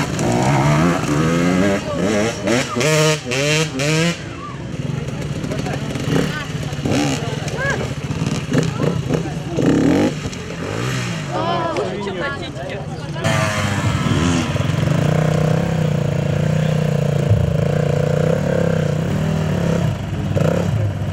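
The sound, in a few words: motorcycle engines roaring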